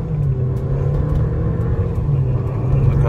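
A Mercedes-Benz GLA 180 pulling away, its engine giving a loud, close, steady rumble for a few seconds without a clear rise in pitch.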